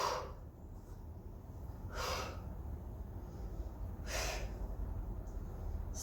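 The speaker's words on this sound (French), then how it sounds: "Souffle, inspire." Quiet, steady breathing during an abdominal waist exercise: soft exhales and inhales roughly every two seconds, close to the microphone over a faint constant background hiss, no talking.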